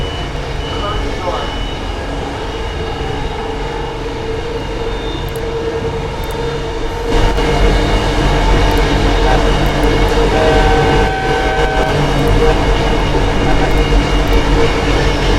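A passenger train in a Southern California train simulator game rumbles steadily throughout, growing louder and fuller about halfway through, with a sustained high tone appearing later, and no talk over it.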